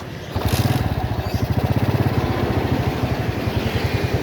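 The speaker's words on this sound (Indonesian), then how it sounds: "mendingan gue sekalian test ride nih motor karena gue mau nganterin paket juga" A motorcycle engine putters steadily during a test ride, a close, rapid, even pulsing beat that runs the whole way with no talk.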